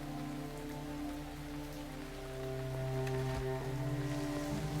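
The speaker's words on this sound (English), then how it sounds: "It's a torrential downpour" Torrential rain pours down in a TV show scene, a dense continuous hiss of heavy downpour under sustained tonal music or drones.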